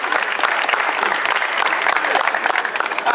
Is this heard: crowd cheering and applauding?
yes